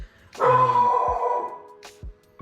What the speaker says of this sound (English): Sorry if you guys heard my dog go crazy there.